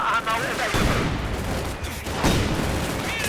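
Game gunfire from a Company of Heroes 2 battle, with a 45mm gun and machine gun firing on Grenadiers: dense bursts of shots and booms rolling continuously, loud and close, with a voice briefly heard under the clatter.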